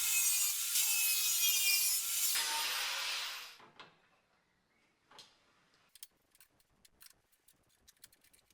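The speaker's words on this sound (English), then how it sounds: "I'm going to make some stress relief cuts perpendicular to the ripple" Stress relief cuts are made in a rippled body panel near the jacking point of a 36-year-old BMW E30 Touring, with a loud, harsh cutting rasp that holds for about three seconds and then stops, followed by scattered light ticks and taps.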